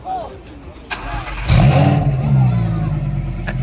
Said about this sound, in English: All these kids want to see him rev it.